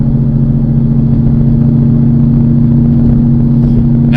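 Coyote V8 in a 2016 Mustang GT with a T56 Magnum XL manual swap, droning at low RPM as a steady, loud, even hum heard from the cabin, with no talk over it.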